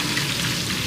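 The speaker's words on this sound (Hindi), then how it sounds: "आप दोबारा से उसको फ्राई करेंगे" Fish sizzles steadily in oil on a flat tawa, a brief, close, continuous hiss of frying with no voices.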